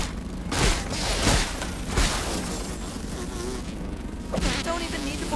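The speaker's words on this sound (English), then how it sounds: "I hear the mosquitoes, yep." Mosquitoes in the video game Grounded, a close, continuous whining buzz running under thuds and hits of combat.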